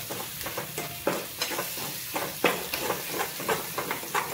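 Rajma masala gravy being stirred in a pan, a steady sizzling fry with repeated scraping strokes of a spoon, close and fairly loud, no talk.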